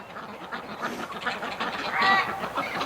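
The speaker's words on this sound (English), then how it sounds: "Ducks looking for water." Winter ducks searching for water give a steady chorus of quacks and honking calls, moderately close and without any talking.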